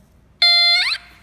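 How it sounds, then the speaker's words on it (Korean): A single shrill electronic buzzer tone from a button-triggered alarm circuit in a kit sounds for about half a second, bright and harmonic, bending briefly before cutting off. "LED가 켜지는 동시에 경보음이 울리는 걸 확인할 수 있습니다"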